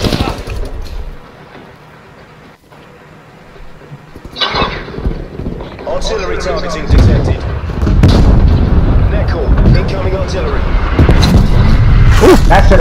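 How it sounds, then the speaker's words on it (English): Artillery strike explosions in Call of Duty Black Ops Cold War, heavy booms and gunfire building into a loud, continuous rumble of blasts, with voices talking over the combat. "Artillery targeting detected."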